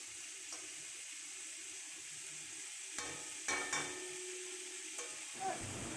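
Potato and pointed gourd frying in a pan for a Bengali curry, a faint steady sizzle with occasional louder scrapes and clinks from stirring, no voice.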